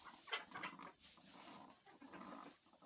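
A hen grumbling softly inside a coop, low murmuring clucks continuing steadily over a few seconds, close and quiet with other hens faintly around.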